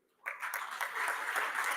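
Audience applause at a poetry event, breaking out suddenly after a brief silence and continuing as a steady, fairly dense wash of clapping that swells slightly toward the end.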